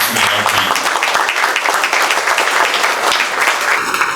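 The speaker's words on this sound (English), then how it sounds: "give MasterCard a round of applause for the partnership" A room full of people applauding at a MasterCard partnership launch event, steady dense clapping sustained throughout at close, even loudness.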